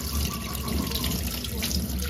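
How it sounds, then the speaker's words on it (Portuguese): Peeled cassava root being rinsed under a running tap at a rural farm kitchen, a steady, close wash of flowing water splashing over the roots without pause. "Lavo de novo. Em água corrente."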